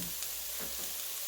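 Boiled green beans fry in a pan for samosa filling, giving a quiet, steady sizzle with a light scrape of stirring near the middle.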